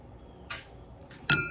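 A clean drinking glass of water clinks quietly a few times in a still room: a soft tap, a fainter one, then one sharper ringing clink near the end.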